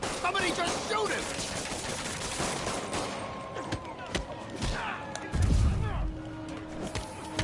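Gunfire amid chaotic combat in Marvel's Spider-Man: dense, noisy crackle of shots and impacts under busy game sound and music, with a heavier thump near the end.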